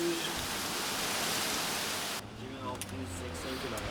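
Heavy rain pours outside a window in Istanbul as a steady, loud broadband hiss, which cuts off abruptly about halfway to a quieter scene with faint low sounds.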